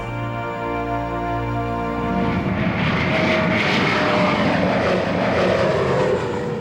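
A Gulfstream V executive jet's engines roar as a steady, loud broadband rush that swells into a dense, sustained blast, with no voices over it.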